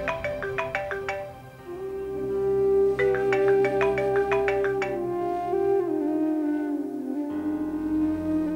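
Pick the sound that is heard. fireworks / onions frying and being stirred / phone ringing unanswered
phone ringing unanswered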